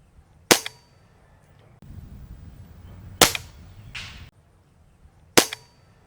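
An Avenger .25 bullpup air rifle fitted with a Donnie FL Fat Boy suppressor fires three sharp, short cracks spaced a few seconds apart, with quieter cocking and handling clatter between shots.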